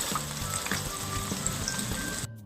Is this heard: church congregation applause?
no